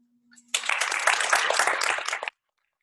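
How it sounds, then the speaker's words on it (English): A small Toastmasters meeting audience claps for under two seconds after a speech, a short, close burst of applause that starts abruptly and stops cleanly, with silence on either side. "Put another round of applause there."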